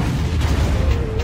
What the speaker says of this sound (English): you can call in an artillery strike that decimates your enemy